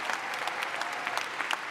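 A crowd applauds steadily at a university commencement ceremony, dense clapping filling the space without pause from start to finish.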